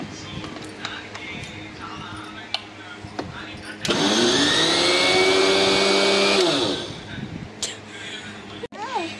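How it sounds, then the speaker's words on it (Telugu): A mixer grinder jar whirs steadily for about three seconds while blending balamrutham cake batter, loud and close, then stops; someone talks before and after it runs. "ఇప్పుడు మిక్సీ పట్టేస్తే కేక్ చేయడానికి రెడీ అవుతుంది"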